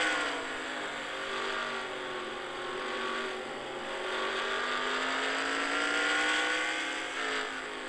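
Onboard the number 27 Chevrolet race car, the engine screams at high pitch, with rising and falling tones as it shifts through gears, loud and steady with no voices.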